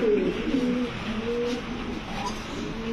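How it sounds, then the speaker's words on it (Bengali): A pair of milky Mili racing pigeons coo close by, soft repeated throaty calls rising and falling over a few seconds against a quiet background. "খুবই সুন্দর এক জোড়া মিলি কবুতর"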